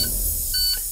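A few short electronic headlights-on reminder beeps from an International school bus, thin and high, sounding over a low engine-off background hum.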